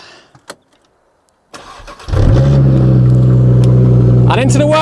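An Audi RS3 engine cranks and fires after a short quiet pause, then settles into a loud, steady idle that fills the rest of the moment, with a brief rise near the end.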